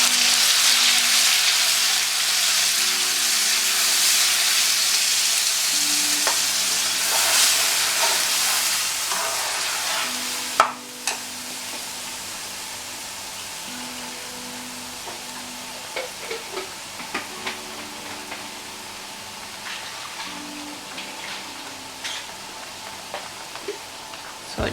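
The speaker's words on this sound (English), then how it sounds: "So now we are going to transfer our mix into the pot." Fish sauce mix going into a pot and being stirred on the stove for boiled tilapia, a steady hiss and sizzle with scattered clinks and scrapes, fading quieter partway through.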